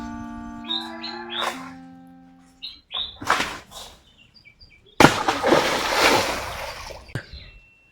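A coconut drops into a river with a single loud, close splash that sloshes and fades over a couple of seconds, after earlier chirping tones and faint background sounds.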